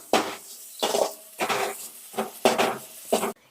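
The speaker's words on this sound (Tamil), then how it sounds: "இதையும் கொஞ்சம் பொன்னிறம் வர அளவுக்கு வறுத்துக்கலாம்" Poha and peanuts being dry-roasted in a pan, heard as six distinct scraping strokes of a spatula against the metal, close and fairly loud, with short pauses between them.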